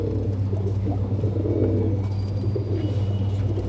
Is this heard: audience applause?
no